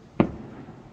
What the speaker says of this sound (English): Fireworks certainly follow us everywhere.